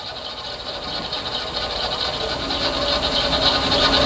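Wood threads being cut by hand on a lathe spinning at 200-300 RPM, a continuous close rasping scrape over a low motor hum, slowly growing louder.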